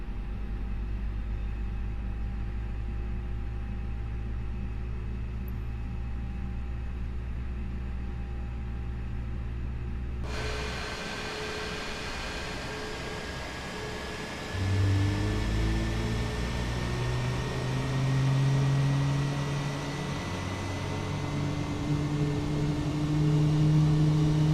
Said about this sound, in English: And starting engine 1 now.